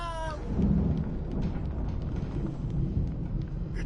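A thunderstorm rumbles in Alan Wake: a steady, loud wash of rain and low thunder roll fills the whole stretch, with no voices.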